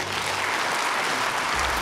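An audience applauds at an honorary doctorate ceremony at a university, a dense, steady burst of clapping filling the hall for a couple of seconds.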